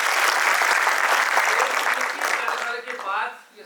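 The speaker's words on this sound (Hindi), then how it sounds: "एक बार जोरदार तालियां" Loud, dense applause from a crowd honouring students from several departments after a theatre workshop finale performance, steady for a few seconds and then fading as a few voices emerge near the end.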